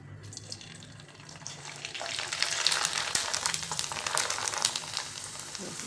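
Homemade wheat kurdai fry in hot oil with a bright, crackling sizzle that swells after a quieter start and stays busy and hissing to the end, close to the pan with no talking.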